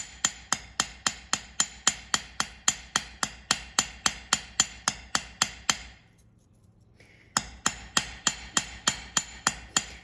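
A hammer strikes a sterling silver chain link on a metal surface in a fast, even series of ringing blows, loud and close, pausing for about a second before the regular pounding resumes.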